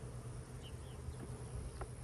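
Honeybees buzz around a hive as honey supers are added, a faint low continuous hum with light scattered clicks.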